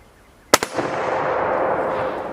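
A single loud, close M1 Garand rifle shot cracks out at an outdoor range, followed by a quick echo and a long rolling decay, with no talking.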